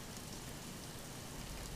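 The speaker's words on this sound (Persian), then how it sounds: "صدای قطرات بارون شدت میگیرن." Steady rain falls in a dense, even hiss of countless drops on surfaces, constant and fairly loud with no pauses, and no voices.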